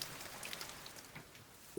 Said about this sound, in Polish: No bo przecież pada.